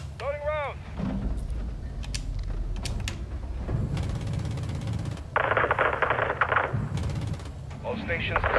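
AC-130 gunship cannon loading rounds in Modern Warfare 2, heard as clanking mechanical clicks and a hiss burst amid rumbling engine drone and intermittent gunfire, with no talk.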